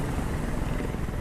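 Helicopter in the Detroit: Become Human video game, a steady dense rotor and engine roar that fills the whole short stretch at fairly loud level with no pauses.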